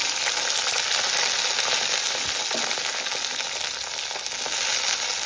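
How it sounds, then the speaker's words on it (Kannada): Whole spices such as cinnamon, cloves, pepper, ginger and garlic frying in hot oil in a pan for chicken biryani, a steady loud sizzle with crackling pops throughout. "ಎಲ್ಲ ಸ್ಪೈಸಸ್ ಅಂದರೆ ಚಕ್ಕೆ ಲವಂಗ ಮೆಣಸು ಶುಂಠಿ ಬೆಳ್ಳುಳ್ಳಿ ಎಲ್ಲನೂ ಆ್ಯಡ್ ಮಾಡ್ತಾಯಿದ್ದೀನಿ ಅಂದರೆ ಅದನ್ನು ಸ್ವಲ್ಪ ಎಣ್ಣೆಯಲ್ಲಿ ನೀಟಾಗಿ ಫ್ರೈ ಮಾಡ್ಕೋಬೇಕು"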